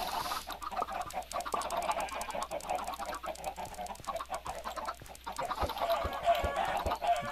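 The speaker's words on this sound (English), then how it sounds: "Look at all the chickens that Greg has" A flock of video game chickens clucks and squawks in a busy farmyard chorus, many overlapping calls over a faint steady background hum.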